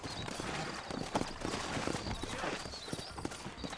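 Horse hooves from the Red Dead Redemption video game clip-clop at a walking pace in a steady rhythm, fairly close and moderately loud, with no talking.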